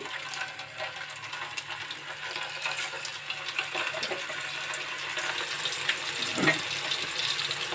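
Kofta balls sizzling in hot oil, a steady, moderately loud bubbling crackle that runs throughout with a brief louder burst near the end, no voices.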